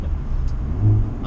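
Hyundai Veloster N engine and exhaust in a low, steady rumble lasting just over a second, swelling slightly near the end as if revving, with no talk over it.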